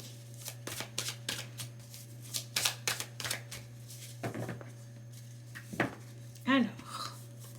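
Tarot cards being shuffled at close range in a run of sharp riffling bursts and slaps, with a steady low hum underneath and no one talking.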